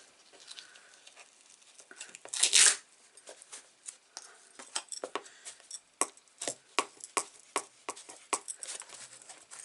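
Duct tape is pulled and torn off the roll in a papercraft mini album project. One loud ripping burst is followed by a run of short crackling tugs and taps, close and otherwise quiet.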